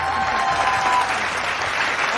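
Studio audience applauding actress Rani Mukherjee during a televised interview, a dense, continuous burst of clapping that stays loud and even throughout.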